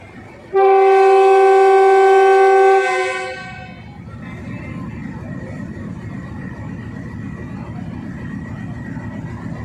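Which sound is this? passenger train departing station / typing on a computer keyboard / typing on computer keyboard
passenger train departing station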